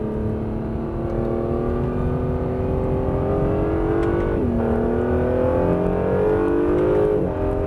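A Honda NSX accelerates hard out of a corner at the Estoril circuit, its engine note climbing steadily with a brief dip at a gear change before rising again, loud and close throughout.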